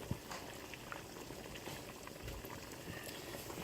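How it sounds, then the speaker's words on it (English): Oils, including calendula oil, pour into a melted salve with a steady, soft bubbling trickle and light patter that runs continuously and faintly throughout, with no voices. "So I'm putting the oils in."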